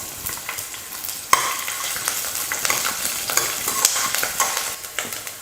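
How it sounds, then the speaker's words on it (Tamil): Shallots, garlic and ginger sauté in hot oil with a loud, steady sizzle and crackle, broken by frequent scraping stirs of a spatula in the pan, no voices. "இது எல்லாம் சேர்த்து எண்ணெய் ஊற்றி நல்லா வதக்கி எடுத்துக்கலாம்"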